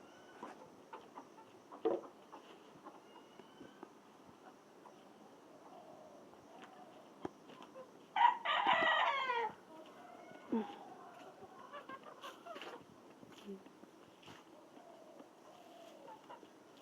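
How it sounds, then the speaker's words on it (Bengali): A flock of hens clucks around a rural home, soft and scattered at a distance, with one louder burst of squawking partway through and quiet voices in the background. "আজকে তোমাদের দেখাবো আমার মায়ের অনেকটি মুরগি।"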